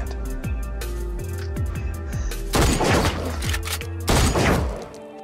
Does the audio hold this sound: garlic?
no